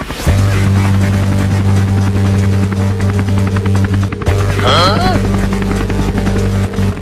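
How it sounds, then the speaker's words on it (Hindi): Steady droning hum of a helicopter engine with a constant low tone, continuous and loud, a brief dip midway, with voices over it. "चलो जल्दी से हेलीकॉप्टर में आ जाओ।"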